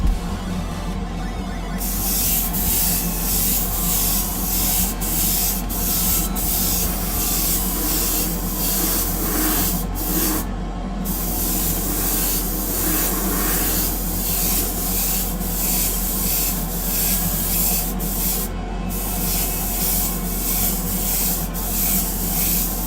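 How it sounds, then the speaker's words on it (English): Steady, continuous hiss of an airbrush spraying base coat onto Greek-style vases, running nearly unbroken with only a few brief pauses, close and fairly loud with no talking. "It's a form of airbrushing, not much in the way of actual painting, I guess. More just spray coating."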